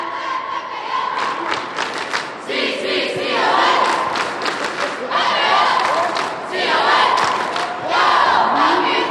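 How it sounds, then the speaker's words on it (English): At a Scripps Ranch pep rally, cheerleaders and a crowd perform a falcon clap, a loud sustained roar of voices with rhythmic clapping and stomping thuds, rising and falling in several waves. "Can you provide a falcon clap for me?"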